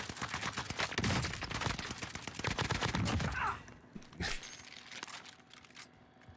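Rapid automatic gunfire rattles in dense bursts during a Warzone match, then thins to a few isolated shots and quieter game ambience; a voice talks briefly underneath.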